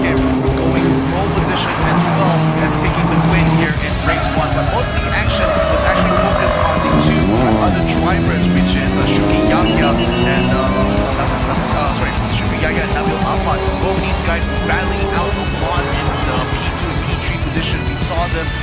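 Promotional-class race cars run on a circuit, engines whining and shifting pitch continuously as they jostle for position, with a commentator talking over the racing throughout.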